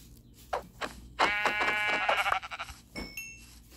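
A Minecraft sheep bleats loudly and close by, one long wavering bleat after a few shorter ones, with no talk over it.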